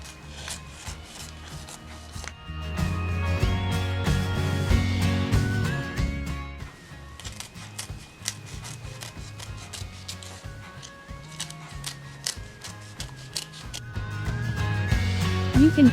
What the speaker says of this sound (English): Chop into small pieces.